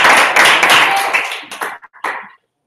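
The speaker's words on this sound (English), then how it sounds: "Everyone give Derek a round of applause." A short burst of clapping from a small audience at a Toastmasters club meeting during a magic trick, greeting a volunteer; loud and close at first, then fading into a few scattered claps before stopping.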